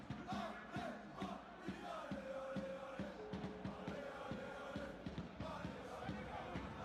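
Stadium crowd in the eFootball PES 2021 video game, a continuous roar of cheering and chanting with rhythmic bursts, fairly distant and moderately loud throughout.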